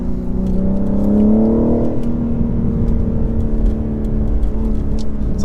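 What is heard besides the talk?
2023 BMW M4 Competition xDrive engine revving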